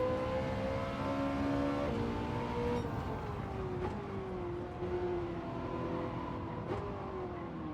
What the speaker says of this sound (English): I like the sound of this F430.